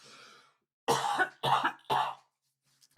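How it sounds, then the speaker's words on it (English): Three sharp, close coughs from a man in quick succession, each a loud harsh burst, preceded by a faint breathy sound and followed by quiet. "I've got a cough."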